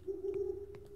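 A steady, low owl hoot drones through a dark, quiet scene in the horror video game Daylight, sustained for about a second, with a few faint knocks around it.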